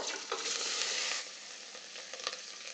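Onions sizzle in a pan next to browning short ribs, a loud bright frying hiss that eases after a second, with occasional scrapes of stirring and no talking.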